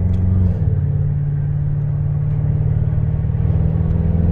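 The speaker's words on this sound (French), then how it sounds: "c'est ouf quand les clapets ils s'ouvrent" A sports car engine revs as its exhaust valves open, a loud, deep drone with a low throaty rumble, steady and close, slightly rising at the start, no talking.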